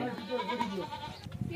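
Sojat goats bleat in short, wavering cries at a moderate distance, with a murmur of voices in the background.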